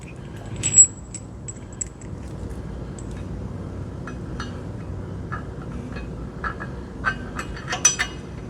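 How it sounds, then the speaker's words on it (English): Metal brake bolts from a 2017 Ford Transit 350 are picked up in a quiet garage, giving a few sharp clinks and a brief jangle of metal on metal, sparse and close. "Just picking up bolts."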